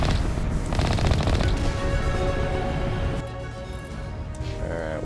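Turrets at a mining facility in Mass Effect 1 fire continuous rapid automatic bursts, loud and dense for about three seconds, then ease into quieter rattling with a low mechanical hum underneath.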